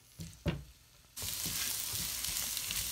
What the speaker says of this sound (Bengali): এখন আমি মশলার ভেতরে এগুলোকে ভালো করে সটে করব।